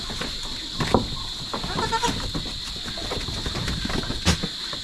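Goats on a farm, including a weak newborn kid, bleat faintly in short thin cries amid steady background hiss and some shuffling, with no clear talking.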